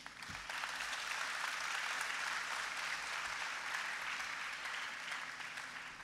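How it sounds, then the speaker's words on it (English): An audience at a school cultural program applauds the performing children, a sustained, even round of clapping from a sizable crowd heard somewhat distant, with no talking over it. "we should give really a big round of applause all the kids presented in here"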